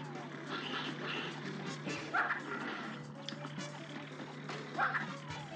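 Cartoon dogs bark repeatedly during a boss fight in the video game Cuphead: The Delicious Last Course, short yaps rising over steady game music and sound effects at moderate loudness.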